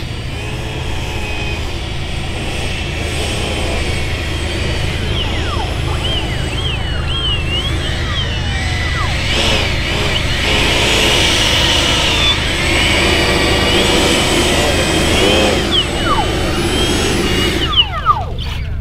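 Two Stinger 90 small jets run down a runway together in loose formation, a steady loud engine roar and whine filling the whole stretch, with people talking faintly nearby.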